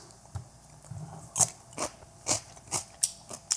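Crisp bites and crunchy chewing of a fresh raw cucumber, a series of about seven sharp, close crunches at a steady, unhurried pace, alone with no talk.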